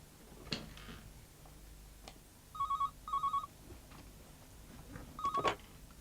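A telephone rings indoors in a home setting, giving two short double-burst electronic rings close together, then a third burst a couple of seconds later, with faint room noise and small clicks between rings.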